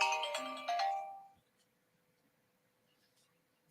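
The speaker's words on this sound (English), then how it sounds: "Was that your phone ringing, Miss G?" A phone rings with a short, bright melodic ringtone for about a second, fairly close, then stops, leaving near silence.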